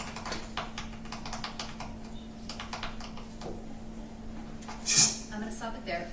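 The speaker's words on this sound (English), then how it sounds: "It sounds like we're hearing like a clicking sound as though you're texting." Rapid light clicking of thumbs tapping a phone screen while texting, an irregular stream of small ticks under a steady background hum, with a voice talking over it.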